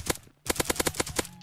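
Rapid bursts from an auto pistol in the video game Krunker.io, a few quick shots followed by a short pause and then a tight string of about eight evenly spaced, loud cracks.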